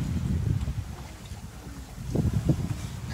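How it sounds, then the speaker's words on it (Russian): Strong wind accelerating between islands off a Mallorca beach roars and buffets against the microphone in low gusts, rising and falling, with faint knocks in between. "Там ускоряется ветер между островами"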